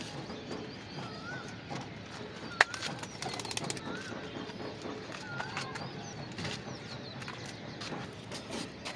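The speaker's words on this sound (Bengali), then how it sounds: "আমার এখানে এটা একটা 2 চোখা কবুতর।" Pigeons, including a two-eyed red dobaj pigeon, heard up close with soft cooing phrases and a sharp burst of wing flapping, set over steady background noise with no talk.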